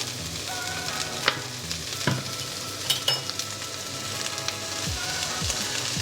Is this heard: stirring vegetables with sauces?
yes